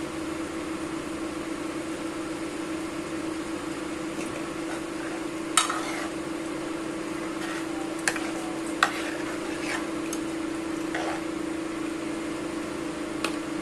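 Jaggery being stirred into wheat dalia in a pot: soft, steady scraping and bubbling with a few sharper spoon clinks against the pot, moderately quiet and continuous, no talking.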